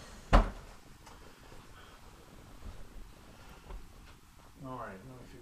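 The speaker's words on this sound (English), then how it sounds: "TV remote, I am putting it in the drawer." A drawer in a home shuts with one sharp, close bump as a TV remote goes inside, then a steady low hiss follows and faint voices murmur toward the end.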